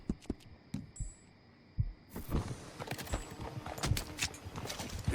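Horse hooves in Red Dead Redemption 2 thud in a few separated beats, then a steadier, busier clopping over a marshy swamp setting with mixed game noise, loud and close.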